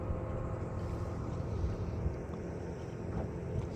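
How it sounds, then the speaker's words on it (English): A small outboard motor drives a Potter sailboat across choppy water into the wind, a faint, steady low churning drone mixed with wind buffeting and water wash. "Kurt's using the motor just to get us centered a little bit."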